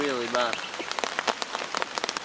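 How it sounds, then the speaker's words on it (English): Heavy rain pouring down at a riverside campsite in autumn, a dense patter of drops hitting a nearby surface, with a brief voice heard at the very start. "it just started to rain really, really bad"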